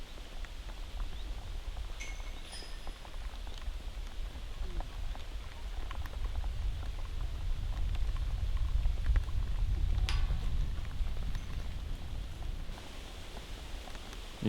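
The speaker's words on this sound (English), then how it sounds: "You hear the raindrops." Steady light rain patters on umbrellas and ground at an outdoor disc golf tournament, a soft continuous hiss of raindrops with a few faint distant sounds and no speech.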